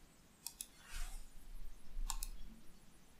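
Two quick pairs of soft mouse clicks, near and fairly faint, with light rustling between, as someone works in the Ambari web interface to stop the Ambari Metrics service.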